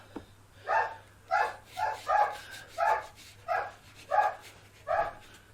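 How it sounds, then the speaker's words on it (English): Dogs eager to be let out for their walk bark in a series of seven evenly spaced, moderately loud barks, set against a steady low background hum. "You probably hear that, that's the dogs ready to go out for their walk."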